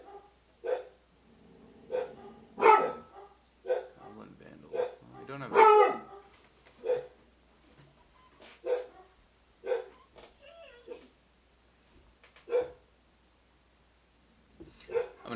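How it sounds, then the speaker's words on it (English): A dog barks in short, separate bursts that recur through the scene, some louder and close, some softer, with occasional whimpering yips between them and people talking quietly in the background. "I'm gonna go handle this dog situation."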